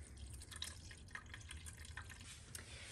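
Water poured for a Passover lemon mousse, a soft continuous trickle and patter with small drips, faint and steady throughout, no talking.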